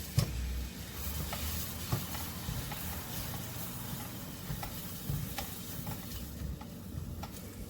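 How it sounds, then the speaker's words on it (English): A pot of roasted cauliflower soup with milk is stirred as it cooks and thickens: a steady, close scraping of the spoon over a soft, continuous low sizzle, with a few sharper knocks against the pot and no voices. "And I'm just going to keep stirring this in and cooking it."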